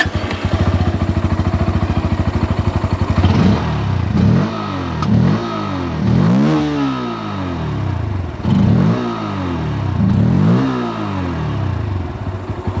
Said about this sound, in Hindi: यहाँ बजाज की पल्सर पे क्या है, यहाँ पर अंडर वैली एग्जॉस्ट दिया गया है।